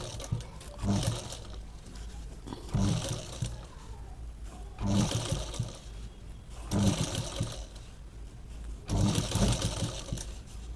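A sewing machine stitches fabric plates for a samai aasan in repeated bursts of rapid mechanical clatter, each run lasting about a second with short pauses between, close and fairly quiet.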